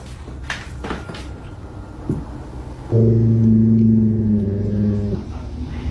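A door swings open by itself, caught on a security camera: a few soft knocks and rustles, then a loud, drawn-out creak that holds steadily for about two seconds before fading.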